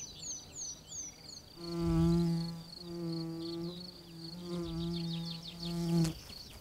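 A wild bee buzzes at a flower close by, with several distinct buzzing bursts rising and falling in pitch over a few seconds, separated by short pauses, with faint bird chirps in the background.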